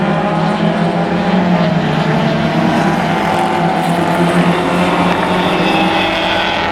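Spec Miata race cars roar through turn 1 toward turn 2 at Mission Raceway, a loud, steady drone of engines sustained without a break and with no voices over it.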